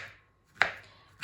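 A knife slices through a banana on a cutting board, giving two crisp, sharp chops about half a second apart against a quiet background.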